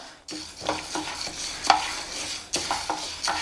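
Dry horse gram is stirred around a hot pan in several scraping strokes, each bringing a light rattle and faint sizzle.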